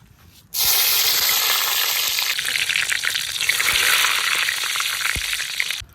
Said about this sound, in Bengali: এবার বাঁধাকপি রান্না করার জন্য কড়াইতে তেল দিয়ে দেবো।